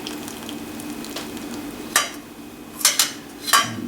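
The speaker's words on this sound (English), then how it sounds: "What I'm going to do is just drain the liquid" Liquid from simmering cherry tomatoes being drained off for a cherry tomato and galangal jam, a soft bubbling hiss broken by several sharp splashing pours and clinks of a pan, close and fairly loud.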